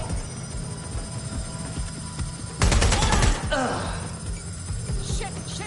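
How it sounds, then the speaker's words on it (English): Enemy gunfire from Albion goons in Watch Dogs Legion crackles in a loud, dense burst of rapid shots over a humming background, fading into scattered echoes. "They're shooting!"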